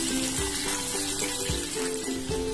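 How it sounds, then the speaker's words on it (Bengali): Pabda fish sizzle and fry in hot oil, a steady loud crackling hiss throughout with faint bubbling pulses, close up and with no voices. "মাছগুলোকে হালকা এপিট ওপিট করে ভেজে নেব, পাবদা মাছ বেশি কড়া করে ভাজার প্রয়োজন নেই।"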